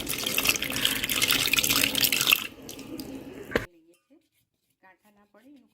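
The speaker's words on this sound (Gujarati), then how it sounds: "એક કપ મેં ચણાનો લોટ લીધો છે એમાં અડધો કપ પહેલાં પાણી ઉમેરીએ છીએ" Water poured from a cup into gram flour to make bhajiya batter for stuffed bitter gourd fritters: a steady close splashing stream for about two seconds, then softer trickling and a clink, followed by near-silence with a faint voice.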